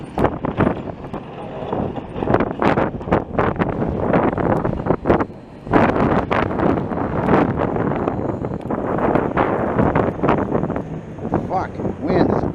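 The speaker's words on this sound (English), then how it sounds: "wind is unbelievable today" Strong gusting wind during a Montreal snowstorm roars and buffets the microphone almost continuously, loud and close, with a brief lull partway through.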